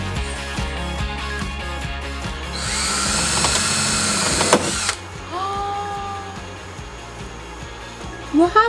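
A power drill whirs in short bursts and then runs in a longer high whine that stops abruptly as the drill bit breaks, followed by quieter clatter and a brief voice.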